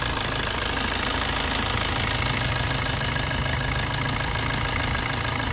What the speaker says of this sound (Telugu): ట్రాక్టర్ అన్న పోతున్నాడు పక్క నుంచి, బండి సౌండ్ కాదు